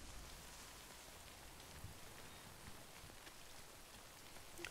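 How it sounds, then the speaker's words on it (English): Rain falls in the video game Death Stranding as a steady, soft, even hiss of many drops that stays constant throughout, quiet and with no voices. "Listen to the rain."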